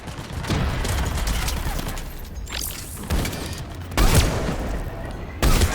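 Rapid gunfire from the video game Mass Effect 3, dense bursts of shots close and loud with sharp cracks breaking in near the end.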